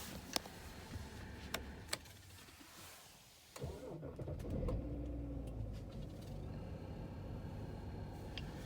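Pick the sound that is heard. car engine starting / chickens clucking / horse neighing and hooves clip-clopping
car engine starting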